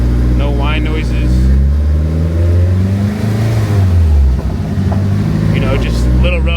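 A car with an SR20DET engine and a freshly swapped transmission and clutch drives in gear. The engine revs rise and fall through a shift with a loud, close drone, and a voice talks over it.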